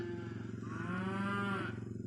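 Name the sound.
stubborn old show cow mooing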